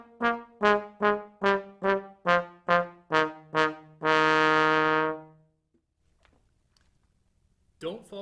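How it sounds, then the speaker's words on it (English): A trombone played marcato: nine short, heavy detached notes in even rhythm, then one long held note that decays into near silence, with a faint sound at the end. "With marcato, every note has heft and a slight bit of decay."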